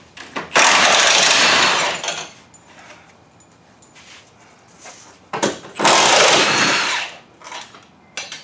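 Power tool spinning out subframe bolts on a Camry in a garage, two long loud whirring bursts separated by quieter clanks and handling noises.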